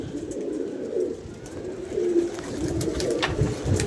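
Pigeons in a pigeon-keeping flock coo with low throaty calls about once a second, three or four rolling coos over steady outdoor background noise, no voices.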